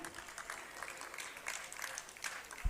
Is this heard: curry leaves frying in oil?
no